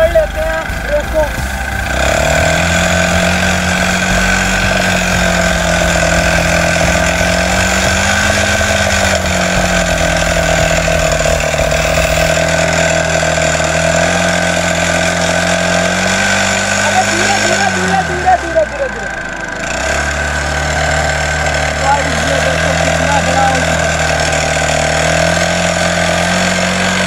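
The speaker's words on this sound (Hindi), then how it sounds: "अब हम मोटर को करते हैं स्टार्ट।" Small electric motor mounted on a bike starts up and runs with a steady, loud whirring drone throughout, briefly dipping once near the end, with talk over it.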